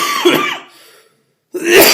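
A lecturer coughs and clears his throat during a law class, two rough bursts separated by a second of near silence, close and loud.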